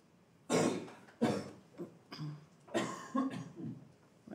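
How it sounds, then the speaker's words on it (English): Several harsh coughs in a row, loud and close, with uneven gaps between them and no talking. "like a symphony of coughs"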